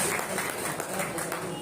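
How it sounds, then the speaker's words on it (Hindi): An audience at a temple foundation-day celebration applauds loudly in a dense, continuous burst of clapping, with a voice over it. "इनके लिए जोरदार ताली"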